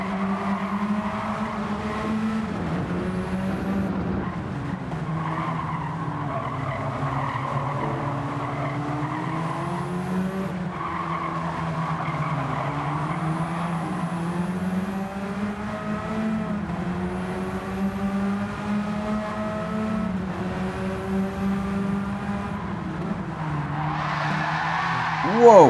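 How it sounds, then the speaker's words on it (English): Race car engines whine and shift pitch in Gran Turismo 7 online lobby racing, with repeated tire squeal and skidding as cars slide through corners, continuous and fairly close, rising into a burst at the very end. "That was a big slide from somebody coming in there."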